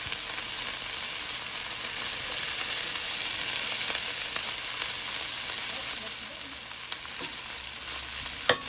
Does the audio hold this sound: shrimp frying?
yes